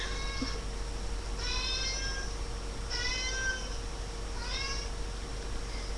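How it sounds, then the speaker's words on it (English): A cat meows four times in a row, evenly spaced, each call a clear rising-falling cry over a steady background hiss. "That's my cat. She like meows."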